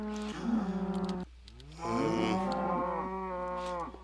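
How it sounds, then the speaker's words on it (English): Young cows in a video game moo in two long, drawn-out calls, the second louder and fuller, heard close and clear with no talking. "the sound of young cows"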